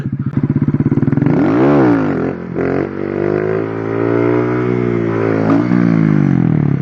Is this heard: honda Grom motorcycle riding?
yes